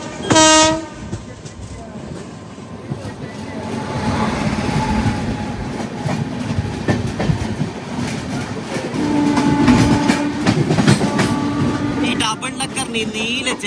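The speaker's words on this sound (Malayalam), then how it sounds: "ഇപ്പം ചെന്നൈയിൽ നിന്ന് ബാംഗ്ലൂർക്ക് പോകുന്ന ഡബിൾ ഡെക്കർ എക്സ്പ്രസ് വരും" A Chennai–Bangalore Double Decker Express rolls past close by, a loud horn blast at the start followed by a steady rumble and clickety-clack of wheels, with another horn near the end and voices faintly underneath.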